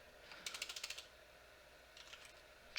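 Quick bursts of typing on a computer keyboard, two short clusters of light, rapid keystrokes, faint and close in a quiet room.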